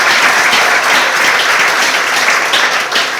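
An audience at a school event in Namilyango claps steadily, a loud, dense wash of applause from many hands that continues without a break.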